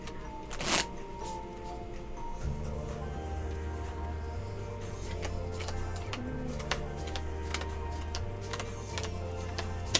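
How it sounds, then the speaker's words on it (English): A single deck of playing cards shuffled by hand at a Let It Ride table game, giving repeated riffles and clicks over a low hum with a sharp snap near the start. "normally we would have a shuffle machine, but we don't have a shuffle machine, so we're just gonna have to do it by hand"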